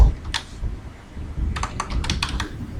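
Computer keyboard typing in short bursts: a quick cluster of keystrokes early on, a pause, then a denser run of clicks, close up over a low hum of room noise.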